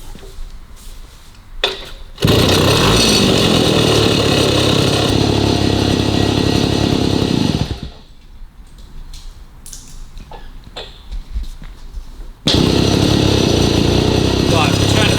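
A 1953 Itom Astor Sport two-stroke motorcycle engine, run with its gearbox off, blares with a harsh, buzzing, chainsaw-like rattle close by. It runs in two loud bursts with a quieter idle between them, and voices are heard in the lulls.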